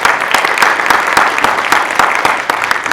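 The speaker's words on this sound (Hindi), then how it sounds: "तो एक बार जरूर ताली अच्छे से बजा दी इन दोनों के लिए" An audience at a poetry recitation event for India's 75th independence celebration in 2021 claps steadily and loudly, a dense sustained wave of many hands with no voices.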